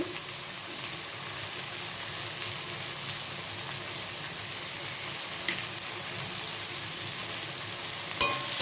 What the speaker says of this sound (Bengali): এই মশলাটাকে আমি ভেজে নেব